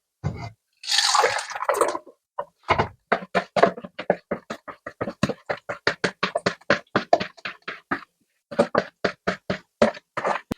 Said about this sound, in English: I'm just going to pour this back into here.